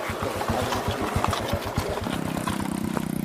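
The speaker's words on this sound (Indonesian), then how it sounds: "Sejauh 12 km harus kami lalui dengan motor trail rakitan milik petugas CRU." A home-built trail motorcycle engine running on a muddy, rocky clay track, a rapid throbbing putter close by that settles into a steady buzzing idle-like drone.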